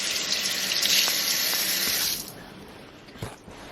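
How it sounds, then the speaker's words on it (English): Cold tap water runs steadily into a sink while a fish fillet is rinsed under it, a close, continuous splashing hiss that cuts off about halfway, followed by a few faint drips and a soft knock. "Give it a bit of a rinse under cold water."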